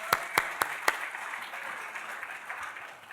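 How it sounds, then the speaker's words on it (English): Audience applause at an evening museum lecture, heard as a few sharp, distinct claps at the start that trail off into a soft, sustained room murmur. "Let's give them a round of applause"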